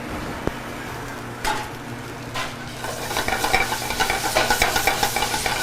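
Pancit noodles with oyster sauce are stirred in a hot pan, a close sizzle of frying joined by repeated scraping and clattering stir strokes that grow busier toward the end.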